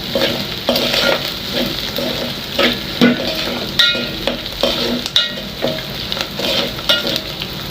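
Minced meat mixed with pie sizzles and fries in a pan while a utensil stirs and scrapes it in irregular strokes, close and moderately loud.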